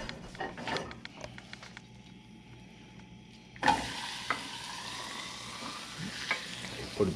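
An omelet fries in a pan for an Easter breakfast, with a steady sizzle that jumps louder after about three and a half seconds, along with a few scrapes and clicks from the pan and utensil.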